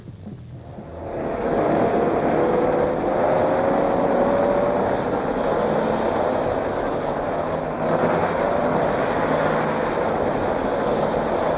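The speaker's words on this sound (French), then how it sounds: "j'ai entendu rugir des moteurs de 2 chevaux" Citroën 2CV engines roaring at a 1972 pop cross event: a sustained, dense motor drone that swells in after a second and holds steady, with faint shifting engine pitch as cars pass.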